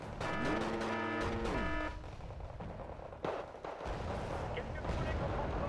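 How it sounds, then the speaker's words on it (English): A 20mm autocannon fires in the Red Dragon war video game, giving a brief crack of shots amid steady battle rumble, with a voice talking over the opening. "I saw the cannon shooting out of there. 20mm, so it doesn't produce a lot of sound."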